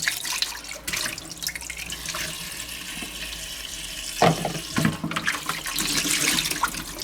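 Running tap water splashes steadily into a sink as a coffee ground container from a Siemens EQ.300 coffee machine clatters and is rinsed under the stream, close by and without speech.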